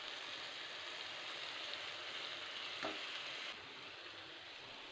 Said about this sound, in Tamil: தண்ணி சேர்த்த பிறகு ஒரு தடவை நல்லா மிக்ஸ் பண்ணி விட்டுக்கோங்க